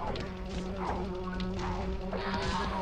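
Bees from a beehive thrown in the video game Lumberwhack make a continuous droning buzz with wavering pitch, fairly close and steady over a few seconds, with no speech.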